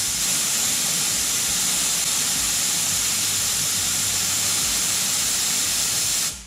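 Compressed air blows at a string taped to an aircraft fairing on a RANS S-21 kit plane, giving a loud, steady, close hiss that runs unbroken for several seconds before cutting off abruptly.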